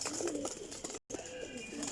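Kasni pigeons coo in a dense, continuous murmur from a flock close by, with a brief dropout midway; nobody speaks.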